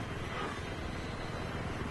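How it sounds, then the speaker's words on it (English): A helicopter flying low overhead in the video game Battlefield 3 on Wake Island gives a loud, continuous rumbling whir that fills the scene evenly with no talk. "Great, now the helicopter's above us"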